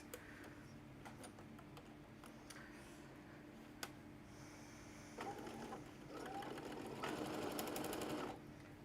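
A sewing machine stitches fabric for a large teacher bag, a fast mechanical whirring that starts and stops in short runs, with clicks between and a louder sustained burst near the end, no talk.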